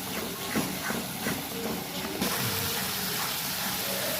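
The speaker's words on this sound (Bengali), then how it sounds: "একটু পরিমাণ মতো নুন, একটু হলুদ দেবো, একটু ভালো করে কষিয়ে নিতে হবে মশলাটাকে।" Masala sautéing in a pan with salt and turmeric for an egg omelette curry, giving a steady hissing sizzle with faint scraping, close and even throughout, no talking.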